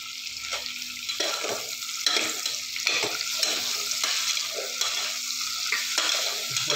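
Onions frying in a pan with green chillies and tomatoes, a continuous soft sizzle broken by repeated scraping stirs at a fairly regular pace, close and moderately quiet with no talking.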